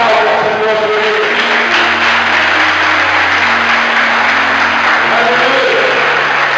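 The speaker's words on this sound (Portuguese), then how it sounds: "Aplauda o Senhor por ele." A church congregation claps loudly and continuously through the whole stretch, with sustained musical tones droning underneath the applause.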